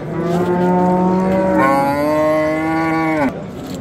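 A cow at a Friday livestock market in Pastdargom, Samarkand, gives one long, loud, close moo that rises and then falls away, with no talking over it.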